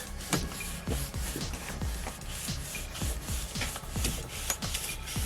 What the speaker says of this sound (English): I'm going to be using my brush instead of the carpet.